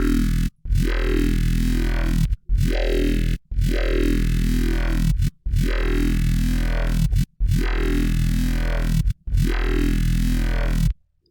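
A dubstep growl synth run through a phaser filter and distortion repeats as six loud, evenly spaced sustained notes with sweeping vowel-like wobbles, each cut off by a short silence.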